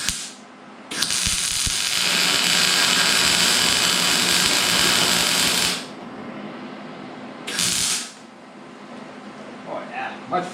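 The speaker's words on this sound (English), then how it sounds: "See if it welds better with gas than without gas." Gas-shielded welding on a Henry J gasser's rear bumper makes a steady, loud crackling hiss that runs for about five seconds, followed by a shorter second bead and quieter shop noise.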